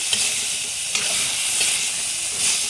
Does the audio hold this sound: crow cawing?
no